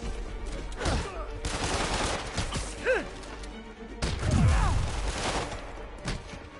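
Enemy gunfire in a Spider-Man game, with loud shots and clattering bursts over several seconds mixed with impacts, thuds and brief vocal grunts.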